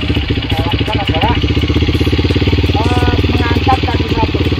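A trail motorcycle is ridden slowly by a standing rider, its engine chugging in a steady, close pulse with small blips of throttle, under someone talking.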